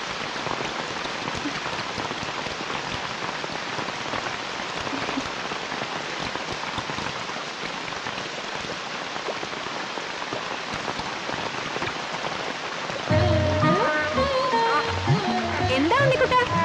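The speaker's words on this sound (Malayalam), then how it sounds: "എന്താ ഉണ്ണിക്കുട്ടാ, എന്തെടുക്ക ഈ മഴയത്ത്?" Steady rain pours down in a Malayalam film scene, a constant close hiss of drops on surfaces; near the end, louder voices and tonal sounds rise over the downpour.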